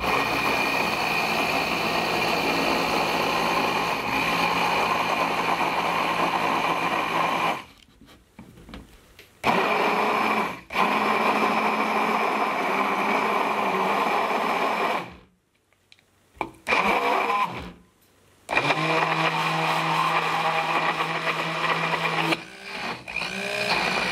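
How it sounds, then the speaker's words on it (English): Immersion blender on high whipping homemade mayonnaise, a loud steady whirring whine that cuts off and restarts several times, with short quiet gaps between bursts. "this is the simplest part about making mayonnaise, is this immersion blender. We're gonna put it in there on high"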